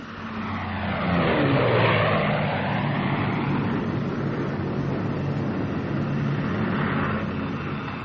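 A P-51 Mustang fighter plane diving at speed with its propeller held at 3,000 RPM, a loud, continuous engine roar that swells in the first seconds and then holds steady, with no voices.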